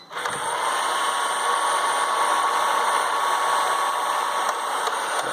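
A Kobot RV353 robotic vacuum cleaner running just after its battery is inserted, lifted off the floor to test sweeping: a steady, close motor whine with a constant high tone, humming unbroken after a brief start, with no voices.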